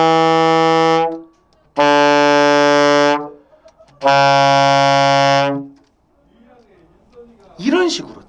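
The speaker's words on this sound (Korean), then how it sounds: "이런 식으로 저음을 빵빵빵빵 연습을 하셔요." A saxophone blows three loud, sustained low notes in a row, each held about a second and a half with brief gaps, followed by a short spoken voice at the end.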